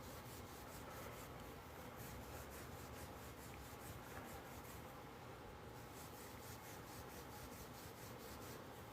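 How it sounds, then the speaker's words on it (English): Fine 0000 steel wool rubbed briskly over a quarter coin ring, a steady, continuous close-up rasping hiss with rapid back-and-forth strokes running throughout, no voices. "I like to take some 4-0 steel wool and just smooth it out a little bit more."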